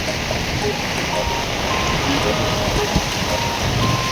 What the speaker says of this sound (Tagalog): Malakas yung ulan, tapos mahangin na.